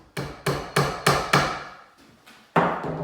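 Hammer blows drive a nail pin into timber for a hallway bench: five sharp, evenly spaced strikes, then a pause and one more, close and ringing, with no voices.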